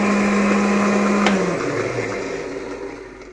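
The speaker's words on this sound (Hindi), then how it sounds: "इसको हमने ग्राइंड कर लिया, एक दफ़ा फिर कर ले" Kitchen blender grinding half a coconut with a glass of milk makes a loud steady whir that drops in pitch and slowly winds down as the motor stops.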